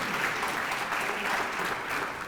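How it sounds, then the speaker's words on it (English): A gala audience at a charity anniversary event gives a short, full round of applause, a steady dense patter of many hands with no voices over it. "One more round of applause."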